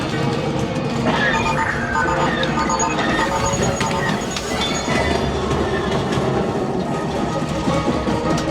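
Train rumble and clattering wheels with faint squeals inside the Millennium Falcon Smugglers Run ride at Disneyland, a dense, steady roar that fills the whole stretch under loud ride effects and voices.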